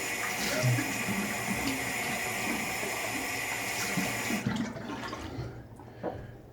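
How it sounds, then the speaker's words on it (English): Cold tap water runs steadily for a post-shave rinse at a bathroom sink, a loud continuous splashing hiss that cuts off abruptly after about four seconds, leaving faint drips and handling noises. "Cold water rinse."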